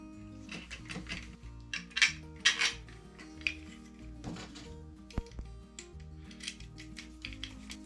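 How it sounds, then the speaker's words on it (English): Metal clinks, taps and scrapes as a nut is fitted onto an external battery connection, a string of light irregular clicks close up with brief pauses and no talking. "And then put the nut on."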